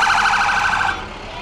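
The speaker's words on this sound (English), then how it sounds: "And here comes the Pride Fire Truck." A Pride fire truck siren at the Blackpool Pride 2023 parade, a loud close wailing tone pulsing rapidly for about a second before dropping away into crowd noise.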